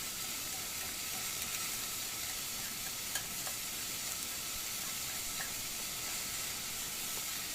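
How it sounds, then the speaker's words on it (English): Green chilies, onion, cinnamon stick, cloves and pepper sauteing in a pan give a soft, even sizzle and hiss, with a few faint clicks of stirring throughout. "just saute for 3 minutes"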